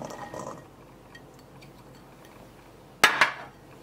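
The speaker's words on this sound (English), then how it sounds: "Now I'm going to put all my ingredients into a bowl and then I will mix it." Red kidney beans dropped into a bowl in a kitchen, a sudden clattering clink followed by a quick second rattle, close and fairly loud after a quiet stretch.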